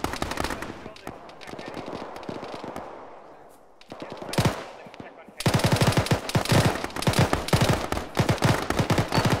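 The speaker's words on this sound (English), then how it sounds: "you got fire coming from the building across your street" Bursts of automatic gunfire crackle from a building across the street in an ArmA-style military shooter played by the ShackTac group, starting as scattered shots then turning into loud, dense, sustained volleys, with brief radio-style talk over the top.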